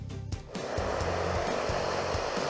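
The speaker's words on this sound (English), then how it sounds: "Now turning on the hairdryer." A hair dryer switches on and runs with a steady, loud whooshing hum after a brief quieter start.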